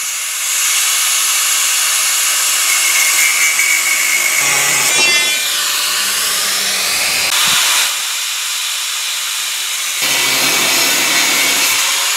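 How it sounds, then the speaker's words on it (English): Wood being cut with a power saw for a homemade dog agility course: a loud, continuous high whine and buzz, close by, with the motor pitch dipping and rising as the blade bites in and briefly eases off. "so I'm done cutting"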